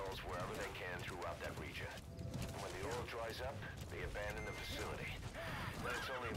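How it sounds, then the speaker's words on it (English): A horse neighs and whinnies repeatedly amid hoof clops and mechanical game noise in Metal Gear Solid V: The Phantom Pain, with scattered voices mixed throughout, loud and busy. "Whoa, horse."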